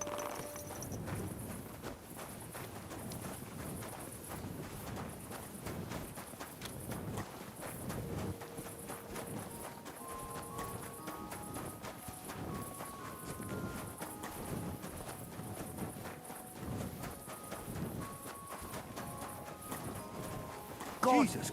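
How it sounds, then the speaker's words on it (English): A horse plods along at a walk in the medieval game Kingdom Come: Deliverance II, its hooves clip-clopping steadily and softly under a voice and a low ambient bed. "Easy, good horse."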